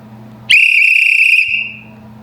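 One loud, shrill blast from a vintage whistle lasts about a second and then tails off. Faint room hum can be heard before and after it.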